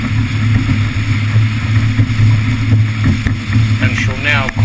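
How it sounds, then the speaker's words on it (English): A RIB motorboat with a Yamaha 150 outboard hums steadily and loudly at low pitch, with wind and water rush over it and voices talking nearby. "we can get rid of the 6 knots and start to open the boat up a little bit"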